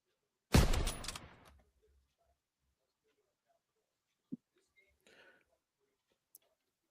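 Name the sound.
gunshot sound effect played for a livestream milestone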